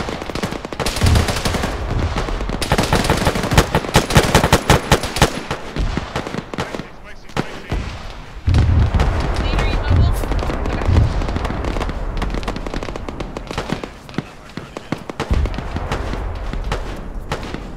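Mortar rounds and heavy gunfire in a military video game form a dense, continuous barrage of loud, overlapping blasts and rapid bursts throughout, with faint radio-style voices occasionally beneath the din.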